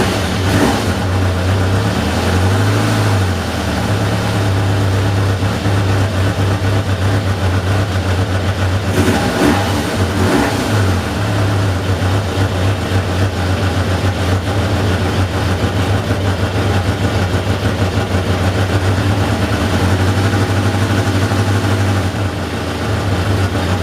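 Restarted motorcycle engine, abandoned eight years in brambles, idling low and slightly hesitant without the choke; a steady, loud, continuous throb runs throughout with small fluctuations and no talk.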